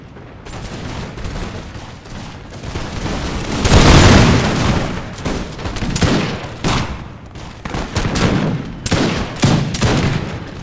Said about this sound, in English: And actually the cannons are still firing at them too.